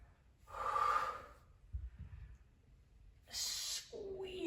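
During a kettlebell workout, a person breathes heavily close by, with a sharp inhale, then a forceful exhale and a couple of quieter breaths.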